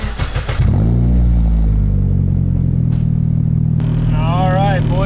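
A straight-piped Nissan Cefiro with a K24 engine starts up and settles into a loud, deep, droning exhaust note recorded close to the tailpipe, with a brief higher whine near the end.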